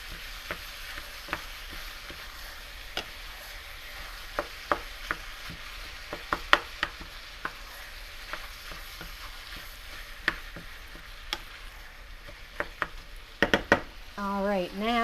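About five garlic cloves sizzling with vegetables in a pan for chili: a continuous close frying hiss broken by stirring clacks and taps against the pan, getting busier toward the end.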